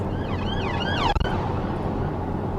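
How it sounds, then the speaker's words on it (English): A police siren wails somewhere in the distance, its tone rising and falling a couple of times over steady background noise. "There seems to be a lot of police cars."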